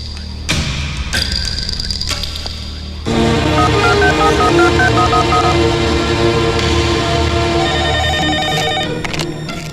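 A telephone in a hospital office rings loudly and insistently, its bright electronic tones repeating over a dense, busy background for several seconds.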